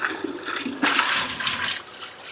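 Hot water runs steadily from a tap in a Ford Transit Custom camper van conversion, a close, continuous rushing splash that swells louder partway through and carries on without any talk.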